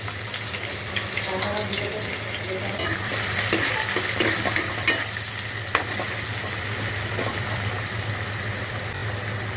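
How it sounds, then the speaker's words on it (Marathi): Finely chopped onion frying in a pan for chicken biryani, a steady sizzle with scraping stir strokes and a few sharp knocks against the pan, close and fairly loud with no voices. "बारीक कापून जो कांदा आपण घेतलेला तो आपण टाकूया."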